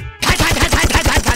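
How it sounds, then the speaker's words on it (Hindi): Rapid automatic gunfire in a Bhojpuri action movie battle scene, a loud, steady burst of repeated shots after a brief quiet start, with no voices. "और दोनों तरफ से फायरिंग।"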